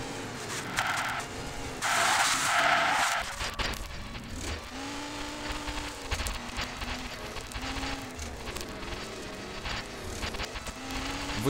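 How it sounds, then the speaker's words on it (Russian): A heavy off-road vehicle drives in the racing game CRC 2005, its engine droning and rising and falling through gear changes, with a burst of rushing noise early on. "ну вроде как, вроде так неплохо внедорожник наш едет"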